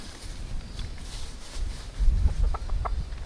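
Chickens cluck softly inside a winter hoop coop, with a few short calls over low rustling and shuffling, fairly faint and close.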